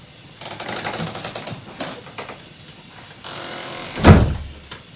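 An interior door in a newly renovated abbey home swings and thuds shut with a single firm knock near the end, after soft shuffling and handling noises close by.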